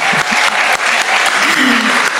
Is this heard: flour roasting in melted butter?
no